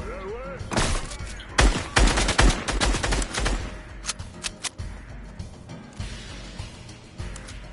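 Sniper rifle shots ring out during a concert event in the video game Fortnite. Sharp cracks land in a dense early volley, then come as scattered single shots, with players talking over them.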